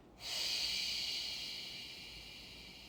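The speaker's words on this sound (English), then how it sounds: "I first ask you to fully inhale up into your clavicles, making your breastbone rise on the inhalation, and then fully exhale" A single long, deep breath drawn through the body during a breathing exercise. It rises abruptly as a steady airy rush, then tapers slowly over a few seconds. The breath is close and isolated, with no talking.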